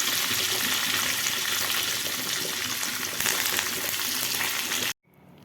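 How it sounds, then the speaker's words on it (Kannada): Mustard seeds, cumin and coriander crackle and sizzle in two or three spoons of hot oil for a dhokla tempering, a dense steady hiss close up that cuts off abruptly near the end. "ಸ್ವಲ್ಪ ಕೊತ್ತಂಬರಿ ಹಾಕ್ಕೊಂಡು ಒಗ್ಗರಣೆ ರೆಡಿ ಮಾಡ್ತೀವಿ"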